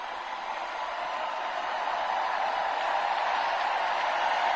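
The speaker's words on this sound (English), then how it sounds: "Listen to that crowd." A large rally crowd in Philadelphia cheering for Tim Walz, a dense, steady roar of voices and applause that builds slightly, heard from within the hall with no clear speech.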